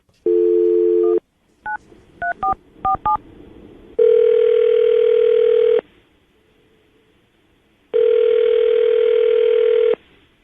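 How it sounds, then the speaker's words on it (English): An outgoing phone call: a short tone, a rapid series of keypad dial beeps, then two long steady ringback tones separated by silence. "we're going to call her right now, get her on the phone"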